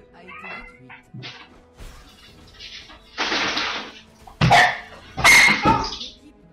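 A female dog barks indoors in several loud, sharp bursts, rising toward the end, with speech heard around them.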